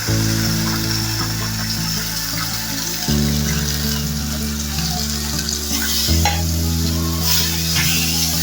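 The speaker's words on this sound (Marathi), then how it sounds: "थोडा वेळ घेऊन परतून घ्यायचा जोपर्यंत पाणी सुकत नाही" Sweet raw mango murabba with sugar is stirred and sizzles in a pan as its water cooks off, a steady close bubbling fry with scraping stirs throughout and a low droning hum underneath.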